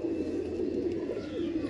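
Desi pigeons in a loft give a continuous low, murmuring coo, steady and moderately close, with no pauses across the short stretch.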